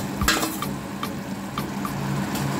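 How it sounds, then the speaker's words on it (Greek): Beef dropped into a pan of sautéing peppers, with a burst of sizzling frying and then a series of light scraping and stirring clinks from a utensil against the pan over a steady crackle. "προσθέτουμε το κρεατάκι μας"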